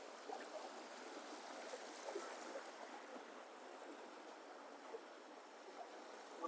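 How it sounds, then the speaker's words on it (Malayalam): A river stream flows strongly at night at a castnet fishing spot, a faint, steady watery rush with small irregular splashes and gurgles throughout. "നല്ല ഒഴുക്ക് കണ്ടില്ലേ അത്യാവശ്യം നല്ല ഒഴുക്കുണ്ട്"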